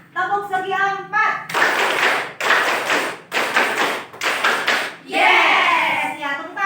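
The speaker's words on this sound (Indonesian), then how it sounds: "Oke, kita akan melakukan tepuk segi 4 ya." A classroom of children claps a rhythmic square-clap routine, bursts of loud group claps in patterned beats with short pauses, a teacher's and children's voices calling out before and after the claps.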